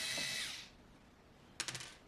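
A screwdriver with a Phillips bit works on tight screws in a Chauvet Colorstrip light bar, giving a short burst of ratcheting clicks near the end after a fading hiss, faint and close.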